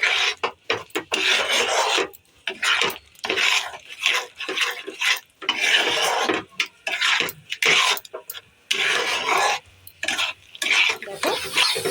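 A spoon stirs and scrapes masala with yogurt, green chilli paste and melon seeds frying in a pan, repeated rasping strokes in short bursts with gaps between, close up and alone.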